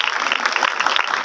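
Dense applause for Jesus Christ at an Urdu-language church gathering, a steady crackle of many hands clapping together, loud and close throughout the short burst.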